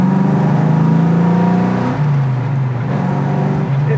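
A 1969 Mustang restomod launches hard in first gear and spins its tires, its engine note climbing loudly and close, then settling into a sustained rasping roar.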